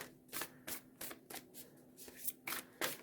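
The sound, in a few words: tarot cards being shuffled by hand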